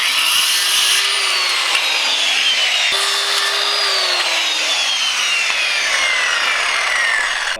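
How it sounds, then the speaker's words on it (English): Saw cutting at an angle through the corner of a wooden kicker ramp piece, a loud, steady rasping drone with the pitch rising and falling over two long strokes, close up and with no talk. "I like to cut them at a little angle, you know, maybe 1/2 inch up the tip of it"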